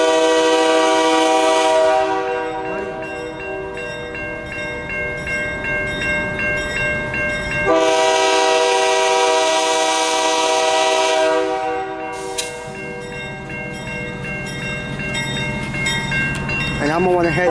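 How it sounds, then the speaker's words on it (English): A CN local freight train passes close by and sounds its horn in long, loud blasts with a gap between them, while wheels rumble on the rails underneath. "Guys, here comes this train."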